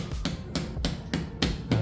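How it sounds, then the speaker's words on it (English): Sharp hammer taps ring out in a steady rhythm while mounting a TV on a wall, about six close, loud strikes in quick succession. "Put a little bit hammer."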